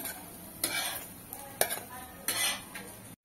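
Pattice, potato patties, frying in a pan with a soft steady sizzle, broken by a few sharp metallic scrapes and clinks of a spatula against the pan.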